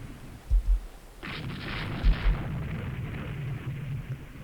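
Naval guns fire in the historical warship strategy game Rule the Waves 3, a pair of deep booming shots followed by a rushing roar and another pair of booms, set against steady low background rumble.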